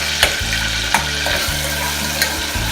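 Chili and onion fry with a steady close sizzle in a pan, broken by a few sharp stirring scrapes and clacks, with no voices.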